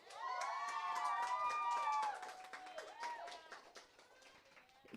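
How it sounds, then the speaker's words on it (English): Audience applause with cheering and shouts for the next presenter at a youth event, a loud burst of clapping and voices that holds for about two seconds, then thins out and tapers away. "Can we get a round of applause?"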